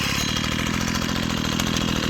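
A Husqvarna 122C string trimmer runs after a pull start, its small two-stroke engine giving a loud, steady, rapidly pulsing idle that stays close and constant.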